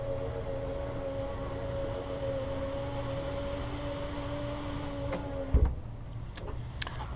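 An RV slide-out retracting, a steady electric motor hum with a faint whine running for about five seconds, then stopping with a brief clunk as the room snugs in, followed by quiet background.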